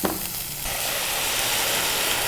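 Tomatoes hit a hot pan with a brief stirring clatter, then settle into a loud, even hiss of frying that fills the rest of the moment.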